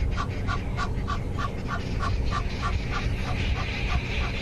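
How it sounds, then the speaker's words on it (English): Egyptian geese, a breeding pair with goslings at a waterhole, honk in a steady repeating series of nasal calls, moderately distant over a constant outdoor background rumble. "the pair of Egyptian geese that bred around the Arathusa waterhole have maintained all 7 of their babies"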